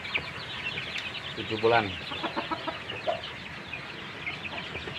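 White village chickens cluck and murmur softly close by, with one louder squawk in the middle, under someone speaking Indonesian.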